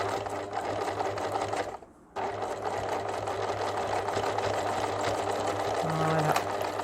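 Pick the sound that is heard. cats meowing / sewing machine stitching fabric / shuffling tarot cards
sewing machine stitching fabric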